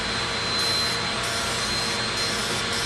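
Steady, loud hiss of a spray gun applying a first coat of wood stain, a continuous broadband rush with slight pulses as the trigger shifts, heard close and alone without talking.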